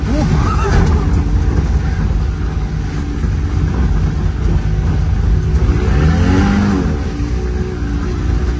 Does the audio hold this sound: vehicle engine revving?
yes